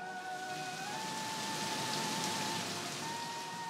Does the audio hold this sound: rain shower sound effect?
yes